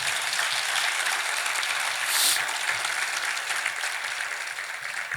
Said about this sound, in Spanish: Dele un aplauso a su nombre